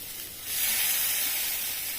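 Soaked chana dal with chopped greens is sautéed in a pan, giving a steady sizzling hiss that swells after the first half second and holds on alone, with no talk.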